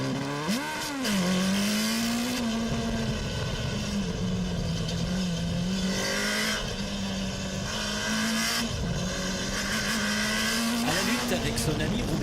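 An old Honda 900 Bol d'Or motorcycle races by, its engine holding a loud, sustained, steady howl with slight pitch swells and dips, close and continuous throughout, with a voice speaking over it.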